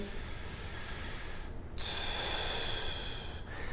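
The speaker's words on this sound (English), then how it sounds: "Breathing in." A person takes a deep breath in through the nose, a close, airy inhalation that swells partway through and holds steady, with no talking.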